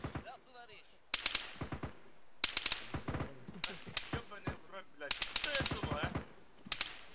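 Gunfire in the military shooter Arma 3, repeated bursts of rapid shots, some near and loud and others more distant, crackling almost continuously with brief pauses.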